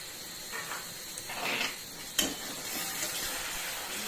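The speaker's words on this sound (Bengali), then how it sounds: "এটাকে কষাবো একটু ততক্ষণ না মশলা থেকে তেল ছেড়ে বেরোবে" Tomato and green chilli paste with spices is sautéed in hot oil in a pan. There is a soft, low sizzle with a few brief bursts of stirring and scraping, and no talking.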